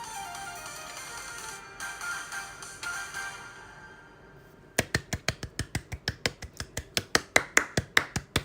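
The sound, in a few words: person clapping hands alone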